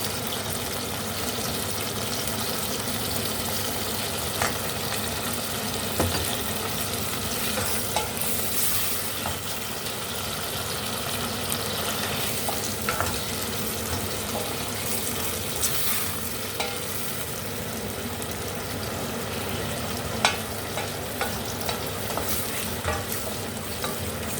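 Salted chutney ingredients sauté in a pan with a constant loud sizzle and crackle, while spatula stirring and scraping knocks recur across the whole stretch.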